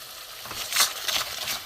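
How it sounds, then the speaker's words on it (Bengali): Chicken kofta curry masala with red chilli powder and salt being sautéed in a pan, a close sizzle with scraping stirs that swell in short bursts. "খুব ভালো করে কষে নেবো বন্ধুরা"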